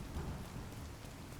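Steady rain with low rolling thunder in the video game The Division 2, a continuous wash of rainfall under a dull rumble, with no voices.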